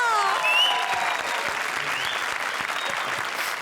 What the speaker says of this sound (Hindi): जोरदार तालियां फॉर सुदेश एंड कृष्णा